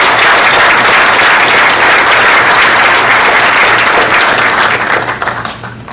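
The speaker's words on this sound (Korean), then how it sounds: "우리 하나님과 이 앞에 새 임원들께 힘찬 감사의 박수를 한번 올려주시기 바랍니다." Loud, sustained applause from a church general assembly audience at a closing ceremony, a dense wash of clapping that fills the room and then thins and fades toward the end.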